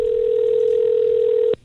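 A telephone line tone sounds on a call placed to a mobile: one steady, clear pitched tone holds for about a second and a half, then cuts off abruptly into quiet line hiss.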